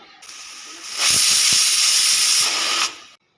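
Steam shrieks from a pressure cooker's whistle while peas boil for ghugni, a loud steady hiss building up, holding for about two seconds, then cutting off abruptly, with no talking.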